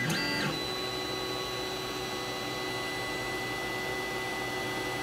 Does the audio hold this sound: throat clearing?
no